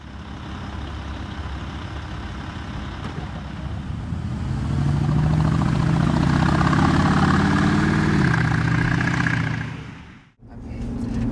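A Porsche Cayenne Turbo engine runs with a deep exhaust rumble, steady at first, then swelling louder and rising in pitch as the revs build, before dropping away sharply at the end; no talk is heard.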